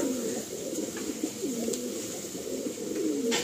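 Madrasi pigeons coo in a series of soft, wavering throaty calls close at hand over a quiet steady background hum.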